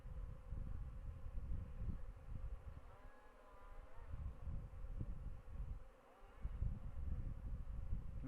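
Honey bees, many of them newly emerged and on their first flight out, buzz around their hive in a dense, continuous swarm drone that swells and dips, close by, with no talking.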